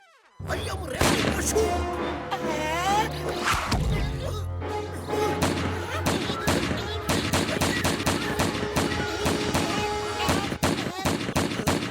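Cartoon gunshots fired at a target in a Motu Patlu episode ring out as a rapid run of sharp cracks and bangs over a busy music score, following a brief quieter opening.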